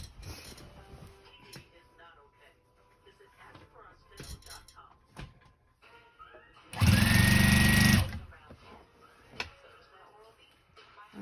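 A Juki TL 2000 QI sewing machine with a walking foot quilts a denim blanket in one loud, steady burst of rapid stitching lasting about a second, framed by quieter handling clicks and rustles while a person talks.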